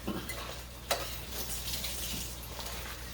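Ground beef, chopped into small pieces, sizzles in a pan with a soft steady crackle, broken by occasional clinks and scrapes of a utensil stirring against the pan; no one speaks.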